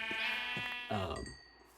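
A Minecraft sheep gives a single loud, close bleat, a wavering drawn-out cry that breaks into a second shaky note before fading.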